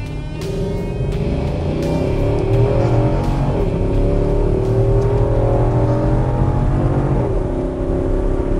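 A 2017 Infiniti QX80 AWD Limited SUV accelerates hard from inside the cabin, a loud sustained engine roar climbing in pitch through several gear changes, each shift briefly dropping the tone before it rises again.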